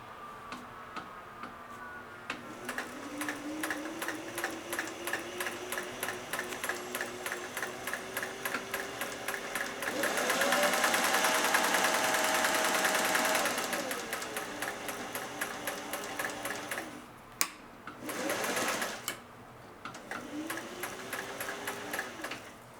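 A Singer 401A sewing machine stitches with a rapid, steady mechanical ticking and whirring hum, speeding up into a louder run and then slowing, with short pauses and clunks between bursts.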